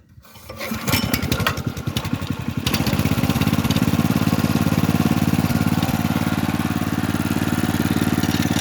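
A walk-behind tractor engine is pulled into life with a few rapid sputtering cranks, then catches and settles into a loud, steady running drone nearby, with no talking.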